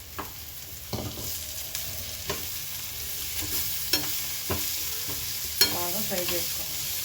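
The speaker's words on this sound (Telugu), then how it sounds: "బాగా ఫ్రై చేసుకోవాలి." Shredded cabbage frying in a pan for a quick curry, a constant soft sizzle broken by regular scraping stirs about once a second, close and fairly quiet, with no talking.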